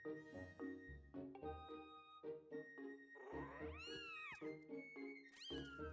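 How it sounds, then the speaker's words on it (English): A remlet cat in Skyward Sword HD meows several times in quick succession, each call clear and close, some rising and falling in pitch, with no voices over it. "Look at this cat!"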